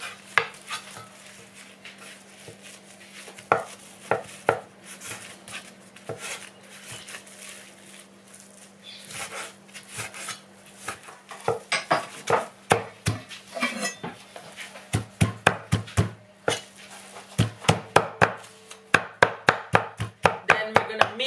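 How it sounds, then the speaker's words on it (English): Pork neck ends being cut and chopped into small pieces for mince, a sparse knife tapping that builds into rapid, loud, regular chopping strikes on a board near the end. "cutting the pork neck ends up into small pieces and then chop them up"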